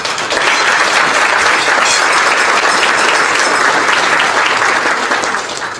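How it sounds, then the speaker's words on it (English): A large audience at a district conference claps loudly and continuously, a dense wash of applause that holds steady before easing at the very end. "I think you all deserve a huge round of applause for being part of an organization that does that."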